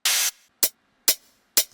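Layered hi-hat samples for a progressive house track: one long open hat followed by three short, crisp closed hits, spaced about half a second apart and played alone.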